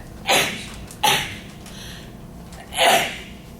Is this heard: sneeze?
yes